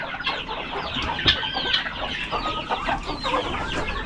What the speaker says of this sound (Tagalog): Ating mga manok,